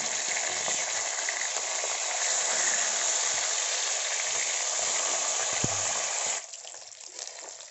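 Fish fries in oil with a continuous, even sizzle for most of the clip. The hiss then drops to a quieter, patchier crackle near the end.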